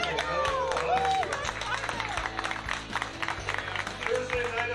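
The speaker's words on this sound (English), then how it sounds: "Give yourself a round of applause." An audience at Bar 9 claps in a steady wash of applause with some crowd noise, heard under someone speaking into a microphone.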